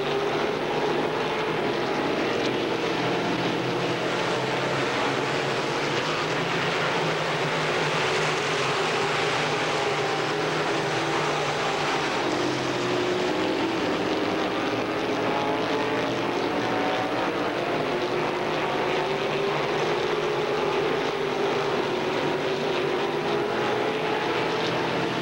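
Stock cars race around a short track at a 1997 pure stock show, a continuous roaring drone of engines rising and falling as the pack passes, heard from a distance without talk.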